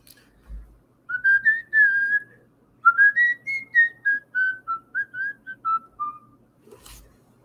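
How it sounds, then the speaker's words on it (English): A person whistles a melody along to a karaoke version of a song, with two long phrases of clear, wavering notes that rise and fall, alone and close to the microphone, with a soft tap at each end. "I always make up the whistling part"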